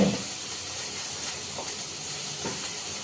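Cut potatoes frying in hot oil, a steady loud hiss and sizzle throughout with faint crackles.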